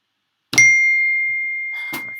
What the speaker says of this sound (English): phone is getting blown up here